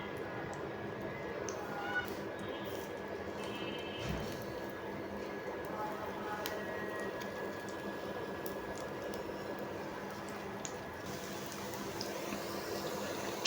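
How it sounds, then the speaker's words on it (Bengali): Flattened khesari lentil fritters fry crisp in pure mustard oil in a frying pan, making a steady, quiet bubbling sizzle throughout, with a voice speaking over it. "সবগুলো বড়া আমি ভাজার জন্য দিয়ে দিয়েছি। এখন আমি এটা মচমচে করে ভেজে নিব।"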